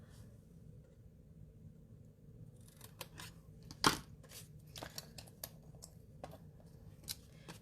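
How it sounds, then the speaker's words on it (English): Scissors cut through card stock while a double gate fold card is being made, with a few crisp snips, one sharper cut near the middle, quiet and close, no talking. "take your scissors and you're just going to cut"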